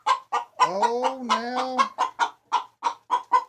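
A broody hen clucks repeatedly in a coop, a steady run of short, close clucks broken by one longer drawn-out vocal call, with a brief word spoken near the start.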